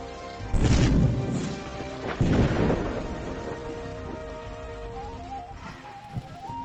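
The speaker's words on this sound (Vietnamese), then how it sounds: "Tiên sinh, trời mưa rồi." Rain falls during a stormy scene in a fantasy drama; two heavy, rumbling crashes like thunder land early, then a steady wash of rain continues more softly, with no voices.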